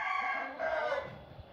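A single rooster, one of a fighting-cock breeder's Spring Rock line, gives one short, close crow that rises and trails off within about a second, with no voices.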